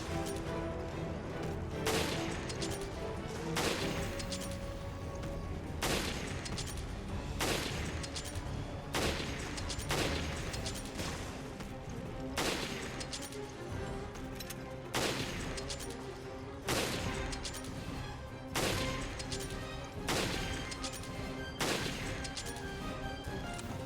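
Repeated gunshots from enemy-shooting gameplay in Resident Evil Revelations, sharp reports every second or two over a steady dense game soundscape with music and ambience, loud and close throughout.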